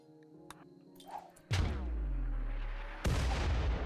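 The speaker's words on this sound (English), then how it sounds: "That auto mortar was close." Auto mortar shells land in the RimWorld video game, with two loud, booming impacts in quick succession, each followed by a long rumbling decay, after some faint clicks and small game sounds.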